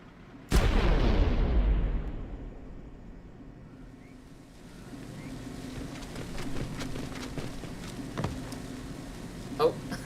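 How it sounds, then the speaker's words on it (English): A shot fuel tank explodes with a loud boom in the Splinter Cell game, its roar decaying over a couple of seconds into ambient rumble and scattered small clicks. "so we can shoot the fuel tanks like that one"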